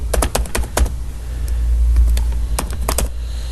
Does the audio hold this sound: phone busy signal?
no